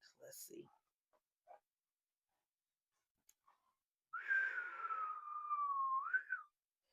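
A few scattered soft noises, then a single long whistled note that slides gently downward and rises at the end, close and clear.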